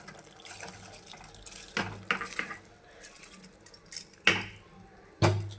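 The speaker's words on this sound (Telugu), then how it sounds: "ఇప్పుడైతే ఇందులోకి రైస్ అయితే వేసేసుకుందాము" Soaked basmati rice is dropped into a pot of boiling water, giving gentle bubbling and churning with a few sharp splashes and clatters as the grains go in.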